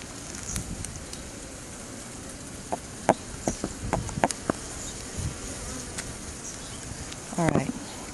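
Honeybees buzz around an open beehive during an inspection. A soft background hum is broken by several brief, louder passes of individual bees flying close to the microphone.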